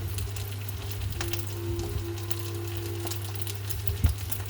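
Egg-and-breadcrumb coated food sizzling in hot oil, a steady close frying crackle with a constant low hum underneath and a small bump near the end, no voices.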